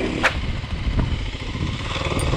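A homologated enduro trail motorcycle's engine runs hot and close, a steady rough mechanical drone with a few clattering bursts, no talking over it.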